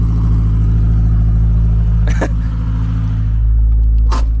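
A 1984 BMW 318i with the M10 four-cylinder, short-tube headers and no catalytic converters or resonator, running loud and close with a steady, droning exhaust hum and brief rasping blips.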